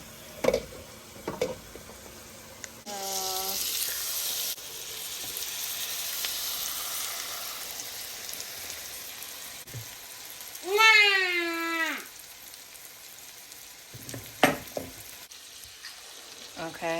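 Steak sizzles and fries steadily in a pan on a stove, a constant crackling hiss throughout, with a few clatters of the meat being turned and a short warbling tone partway through.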